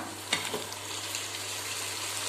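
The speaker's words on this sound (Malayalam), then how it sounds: "അപ്പോൾ നമ്മുടെ ഉള്ളി നന്നായി വഴന്ന് വന്നിട്ടുണ്ടെങ്കിൽ നമുക്ക് തക്കാളി ഇട്ട് കൊടുക്കാം" Tomatoes sizzle with softened onions in a pan for a North Indian dal curry, a steady close frying hiss with a brief stir-clatter near the start.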